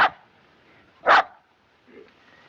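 A dog barks twice in a 1938 film scene, two sharp, close, loud barks about a second apart, followed by a faint low whimper, with no talking.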